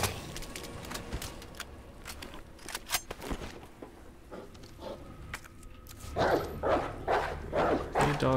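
A dog in the Resident Evil 2 Remake video game barks and growls in several sharp bursts, loud and close, mixed with game sound effects and footsteps.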